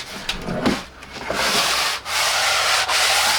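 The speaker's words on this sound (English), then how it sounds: "So I'm just gonna take the sandpaper and just" Sandpaper rubs briskly along a wooden bo staff, a loud close scratchy sanding sound in continuous strokes with brief pauses, no talking.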